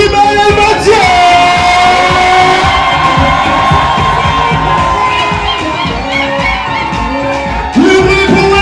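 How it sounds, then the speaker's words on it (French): Wedding guests cheering and yelling for the bride and groom at a reception, a loud crowd roar of whoops and shouts, with music sustained underneath and a fresh burst near the end. "un maximum de bruit pour Sibelle et Mathieu"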